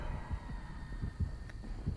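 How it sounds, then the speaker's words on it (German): Heartbeat from the Dead by Daylight video game, heard as a low, steady throbbing pulse repeating about every third of a second, with a faint hum beneath and no voices. "Auf jeden Fall ein Herzschlag."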